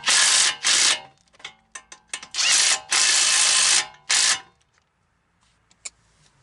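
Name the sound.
ratchet wrench tightening wheel bearing bolts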